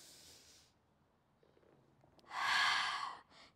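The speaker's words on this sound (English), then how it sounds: "Breathe in." Deep yoga breathing with a slow inhale through the nose, heard alone as a loud airy rush with a fainter exhale before it and a short breath at the end.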